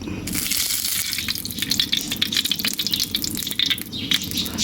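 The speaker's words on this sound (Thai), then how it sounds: "กระทะร้อนแล้วใส่น้ำมันลงไปนะครับ" Steady, loud sizzling and crackling as cooking oil is poured into a hot wok, a continuous hiss with scattered pops throughout.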